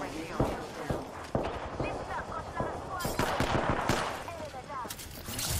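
P2020 pistol gunfire in the battle royale shooter Apex Legends, sharp repeated shots in quick irregular bursts mixed with other weapons, with people talking over the fighting.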